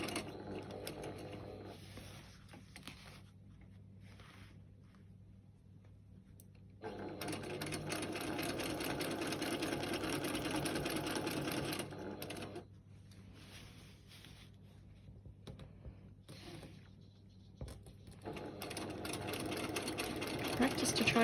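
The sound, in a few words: sewing machine doing free motion quilting of feather plumes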